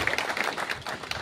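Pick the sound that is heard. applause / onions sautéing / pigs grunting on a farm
applause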